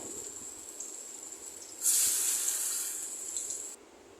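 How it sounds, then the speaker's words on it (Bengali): Soya koftas frying in oil in a wok give a faint steady hiss that swells into a louder sizzle midway before dropping back abruptly near the end. "এবার আমি কড়াতে আবার তেল দিয়ে বাকি কোপ্তাগুলো ভেজে নিচ্ছি"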